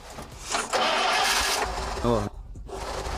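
A large truck engine cranks and catches with a short mechanical whine, then cuts away abruptly. A voice talks over the sound, heard close.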